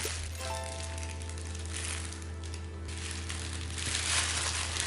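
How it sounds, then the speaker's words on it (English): Plastic crinkles and rustles continuously up close as lemon tart pastry dough is squeezed and handled inside a bag, over a steady low hum. "Then put it into a plastic bag."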